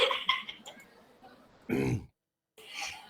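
One person gives a single short, throaty cough or throat-clear at close range amid a room with faint talk before it.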